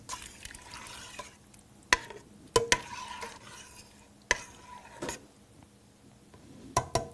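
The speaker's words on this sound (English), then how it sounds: "Give it another stir." A spoon works through a pot of gluten-free corn jalapeño chowder with soft swishing and several sharp metallic clinks against the rim, quiet and close, no voices.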